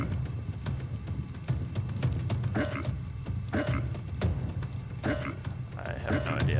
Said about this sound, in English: Add the ingredients to the frying pan.